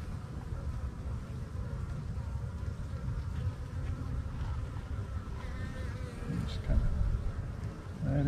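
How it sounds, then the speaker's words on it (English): Honeybees in a wooden hive box swarm over the comb, giving a steady, close, humming buzz under quiet talk, with occasional handling noises. "try not to pop the bees that are on the comb"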